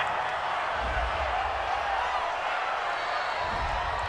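Home stadium crowd in the football video game Madden NFL 20 roaring approval after a penalty call on third down, a dense, steady wash of cheering at even loudness throughout.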